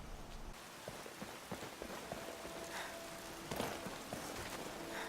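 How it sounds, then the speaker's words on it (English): Rain patters as a dense, even hiss in the Skyrim Requiem mod at Bug Falls Barrow, faint and continuous, with a few soft footsteps and light clicks over it. "It's most of the time it's raining."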